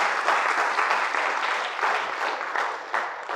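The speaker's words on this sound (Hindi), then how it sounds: "पहले तो जोरदार तालियां" Students clap loudly in a school seminar hall, a dense, steady burst of many hands beating together with no voices over it, lasting a few seconds.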